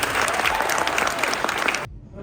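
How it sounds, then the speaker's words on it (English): Audience clapping for the judges at a university engineering capstone competition results ceremony, a dense steady round of applause from a room full of people that cuts off abruptly near the end. "Everybody should clap for the judges."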